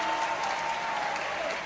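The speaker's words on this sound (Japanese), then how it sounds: "大声援が沸き起こります。" Crowd cheering and applauding at a packed gymnasium during a professional wrestling title match between Billy Robinson and Tor Kamata, a steady roar with clapping, a whistle-like tone over it.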